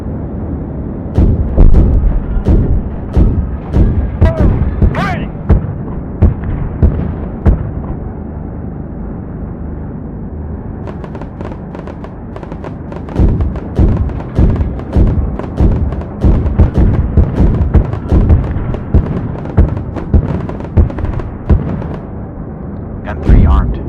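Heavy gunship cannon fire in Project Gunship, a dense run of loud booming shots and thumps with brief pauses, a voice calling out between the volleys.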